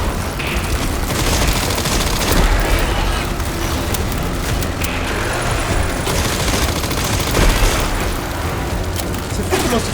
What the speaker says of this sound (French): C'est fou comment ce fusil mitrailleur, ce pistolet mitrailleur est bien plus puissant que l'autre.